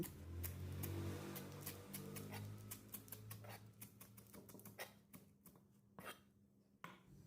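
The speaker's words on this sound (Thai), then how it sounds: "ต่อไปก็ผักขึ้นช่ายมาหั่นเป็นท่อน" A knife chops celery repeatedly on a board, quick irregular cuts that slow and thin out toward the end, with faint background hum.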